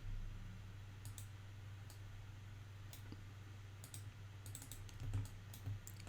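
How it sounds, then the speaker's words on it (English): Computer mouse buttons clicking while modelling in Maya, a quiet scattering of sharp, isolated clicks over a low, constant electrical hum. "So I'll right click and go to edge mode."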